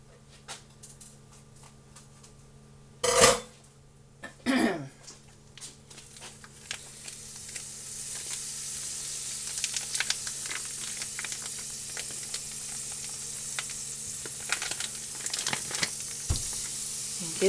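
Ground breakfast sausage sizzles steadily in a pan, a soft continuous frying hiss that grows denser over time, with a couple of louder clattering bursts early on.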